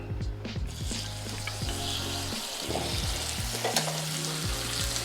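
Steak searing in a hot frying pan, with a loud, continuous sizzle and crackle close up, plus intermittent clicking and scraping from cooking tools throughout.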